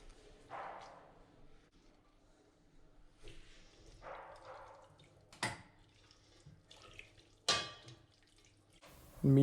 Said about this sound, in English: Now let's add the veggies and the noodles into the broth.